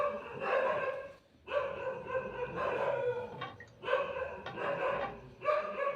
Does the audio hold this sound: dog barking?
yes